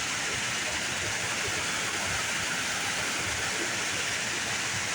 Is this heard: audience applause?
no